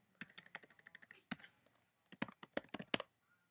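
Rapid bursts of key clicks from a computer keyboard, close and fairly quiet, typed in short uneven runs with a brief pause midway.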